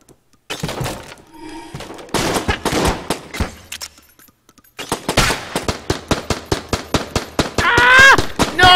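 Rapid bursts of gunfire from the video game Enter The Gungeon, loud and close, with sharp shots coming in fast strings separated by short pauses and no talking over them.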